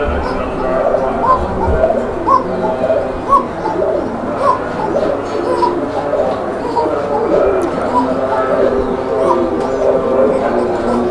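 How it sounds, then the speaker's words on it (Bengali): Large pigeons kept for sale cooing repeatedly in a close chorus of soft, throaty rolling calls, loud and continuous with overlapping birds and no speech. "উড়াদুরা ডাকের কবুতর"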